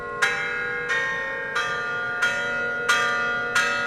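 MIDI-driven chimes strike the bell notes of the Belfry of Ghent, six loud, evenly spaced hits about two-thirds of a second apart, each ringing bright and overlapping the last into a thick, muddy wash with no voices.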